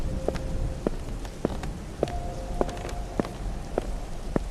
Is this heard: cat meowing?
no